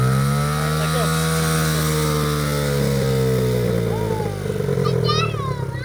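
A small snowblower engine runs with a steady buzzing drone, rising in pitch as it revs, while people talk over it.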